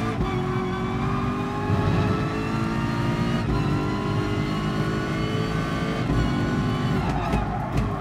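A race car in GT Sport losing its rear while overtaking on the outside, engine droning loudly and steadily with tyre squeal and skid noise layered through, close and continuous.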